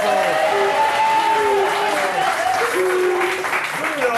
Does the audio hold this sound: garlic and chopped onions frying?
no